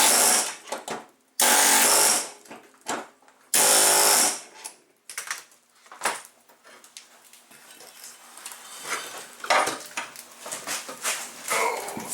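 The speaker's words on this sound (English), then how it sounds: "So I usually get a ratchet in here." Ratchet working on a lawn mower deck spindle, loosening a bearing held apart by a sleeve: two loud bursts of harsh rapid metallic clicking, then quieter scattered clanks, taps and metal handling up close.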